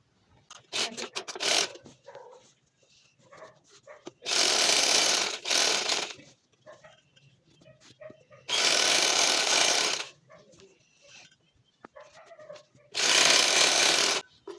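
An electric sewing machine stitches the side seam of an A-line angrakha garment in three loud, steady bursts of about two seconds each, with quiet handling of the fabric and faint rustling between the runs.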